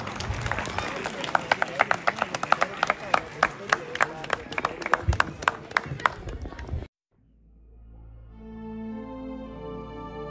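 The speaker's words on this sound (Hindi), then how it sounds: "सभी तालियां बजाएं।" Crowd of people at a cow shelter event in Pathmeda, Rajasthan, clapping in a dense burst of sharp hand claps for several seconds, then it stops abruptly and a quieter tonal hum follows.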